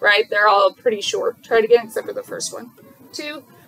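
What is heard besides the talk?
No everyday noises stand out.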